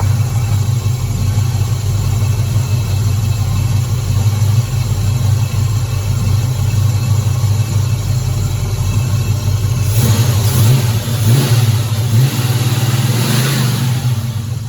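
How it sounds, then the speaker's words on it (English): A 1979 Chevrolet El Camino SS V8 engine running in a garage during an alternator upgrade, a steady close idle that swells with a few quick revs toward the end, loud and without talk. "Just rev it up a little bit, make sure it's all right."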